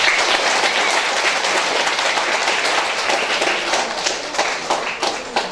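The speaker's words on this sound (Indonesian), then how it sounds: "mari kita sambut keluarga Kristiani yang baru ini dengan tepukan tangan yang meriah" Steady, dense applause from a wedding congregation welcoming a newlywed Christian couple, a full room of hands clapping loudly and evenly throughout without any talk.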